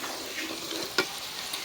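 Potatoes and onions fry in a pan in a home kitchen, a steady soft sizzle with a single sharp clink of a utensil partway through, fairly quiet and close.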